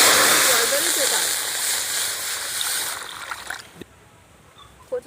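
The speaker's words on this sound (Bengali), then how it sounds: "আমি এখানে হাফ মগ জল দিচ্ছি, কারণ জল বেরোচ্ছে তাই।" Half a mug of water poured into a hot kadai before boiling taro leaves, a loud continuous gushing splash that fades out over a few seconds.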